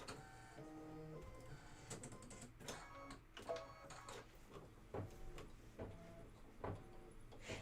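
A home embroidery machine stitches and trims jump threads, giving faint, rhythmic mechanical whirring broken by sharper clicks and taps at irregular intervals, with no voices.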